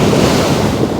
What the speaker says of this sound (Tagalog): Ayan po ang dagat.